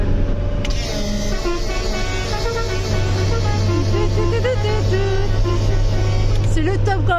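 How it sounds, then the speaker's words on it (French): A Mercedes van's car horn sounds in a short melodic sequence of tones while driving, over steady road and engine rumble, with people talking nearby. "On va vous retester le klaxon."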